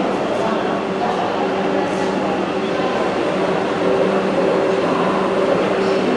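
A train at a crowded station during Kumbh Mela travel gives off a constant loud rumble and hiss, with faint voices mixed underneath.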